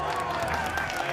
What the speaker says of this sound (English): And there's Aaron's family giving him a standing ovation.